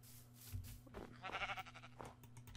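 A blocky video game sheep in an FTB modpack gives a single faint, wavering bleat midway, with quiet background sound around it.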